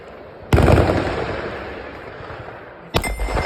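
Two loud rifle shots at special forces shooting training, one at the start and one near the end, each sharp crack trailing into a long rolling echo across an open range.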